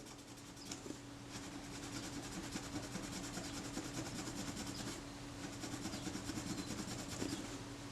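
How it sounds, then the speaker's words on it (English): A cotton bud dipped in naphtha scrubs corrosion off a part of a Kodak Retina I type 119 camera, a faint, steady close-up rubbing that continues without pause. "And I'm just rubbing against this with the cotton bud with a bit of naphtha on it."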